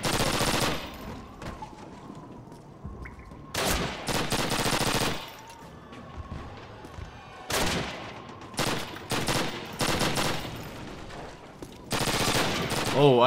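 Automatic gunfire in Call of Duty, sewer level, coming in several loud rapid bursts separated by short quieter gaps, with faint background game sounds in between.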